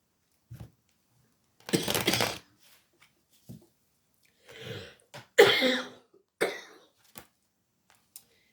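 Several separate coughs and throat-clearing bursts, close and fairly loud, spaced irregularly with silence between them.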